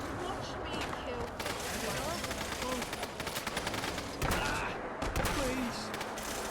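Rapid volleys of gunfire in a firefight in Fallout: London, dense bursts and cracks stacked close together throughout, with shouted voices mixed into the chaos.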